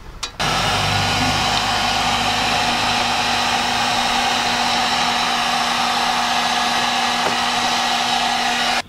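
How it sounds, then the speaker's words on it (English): A heat gun runs on a riding mower's steering parts, a loud, steady blowing hiss with an even electric hum that starts abruptly and holds unchanged until it cuts off at the end. "We might have to use a heat gun."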